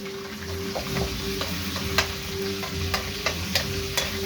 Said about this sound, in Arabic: حمري التومه شويه كده بتبقى ريحتها حلوه كده